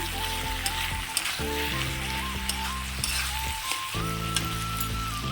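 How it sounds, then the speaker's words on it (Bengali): Potato and capsicum curry stirred in a pan, a close, steady sizzle with repeated scraping strokes of a spatula and a low background hum, no voices. "দিয়ে ভালো করে একটু নেড়ে নেব।"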